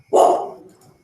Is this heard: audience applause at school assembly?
no